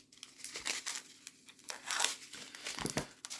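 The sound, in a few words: cutting open diamond painting drill bags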